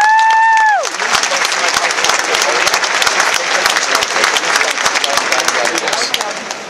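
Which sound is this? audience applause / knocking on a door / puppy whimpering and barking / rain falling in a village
audience applause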